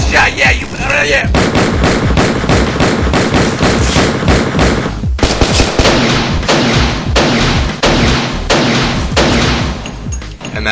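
Loud, dense burst of gunshot effects, rapid overlapping bangs and thuds over a pounding backing track, running continuously with a brief drop near the middle.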